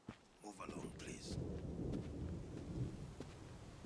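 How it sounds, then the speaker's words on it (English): Rain falls steadily in the fantasy video game Book of Travels while a deep roll of thunder rumbles underneath, the storm swelling and then holding in a dense, fairly loud wash. "I hear rain."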